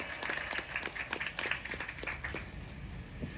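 An audience at a children's song performance claps in a soft, scattered patter that rises and fades over a few seconds, heard at a distance and fairly quiet.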